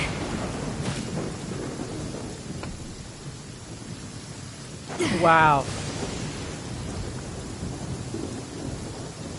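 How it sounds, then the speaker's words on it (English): Thunder strike in Genshin Impact, a sudden rumbling crack over steady rain, with someone talking and reacting around it. "Really had to strike thunder"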